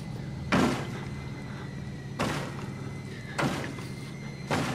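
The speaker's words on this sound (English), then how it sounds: "Somebody's trying to get through that door." A door in the survival horror game Outlast is being forced, giving four heavy thuds spaced a second or so apart over a low droning ambience, with no talking.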